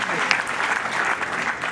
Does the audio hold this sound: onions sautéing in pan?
no